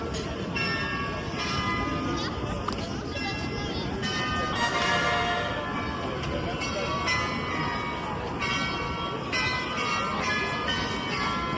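Clock tower bells ring out on the hour over Munich's Marienplatz, repeated metallic strikes sounding through a busy open square with crowd murmur and rain-dampened ambience around them.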